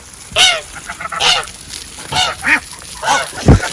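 Ducks gathered by their food and water dish give about six loud, nasal honking calls in a ragged series, each brief and close, with no talking.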